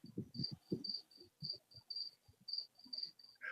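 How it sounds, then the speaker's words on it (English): Crickets chirp in a steady, evenly spaced series of thin, high pulses, faint and slightly distant, over low muffled thumps and rustling. "you know he's back when you hear the crickets"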